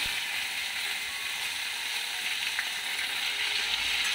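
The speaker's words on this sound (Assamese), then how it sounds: "এতিয়া মই এইখিনি ভাজি ল'ম তেল গৰম হ'ল ইয়াত অলপ জিৰা দিম এতিয়া এইকেইটা বহাই দিম" Jute leaf tips and cumin seeds frying in hot oil make a steady, dense sizzle with fine crackling that stays constant throughout, with no one speaking.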